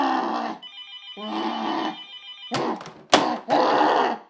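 Telephones ring at a busy call-in fundraiser phone bank, two steady electronic rings followed by louder clattering bursts and commotion, fairly close.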